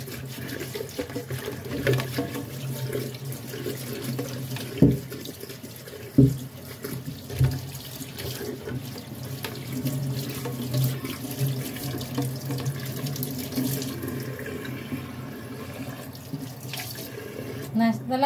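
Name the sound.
washing young papaya under running tap water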